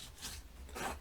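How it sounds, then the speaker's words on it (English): Paper folded and pressed with an upturned bone folder, producing soft rasping rubs in two brief swells, close and quiet, with no voices. "taking your bone folder, I'm going to turn it upside down and fold into the bump"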